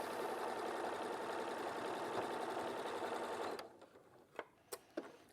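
A domestic sewing machine stitching a patchwork patch, a steady fast whirring hum that runs loud for several seconds, then stops, leaving a few quiet clicks and taps.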